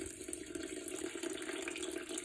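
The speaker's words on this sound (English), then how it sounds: "Now 700 grams of water into the bowl" Water poured into a mixing bowl for sourdough bread dough, a steady rushing splash of pouring water at a soft level with no talk over it.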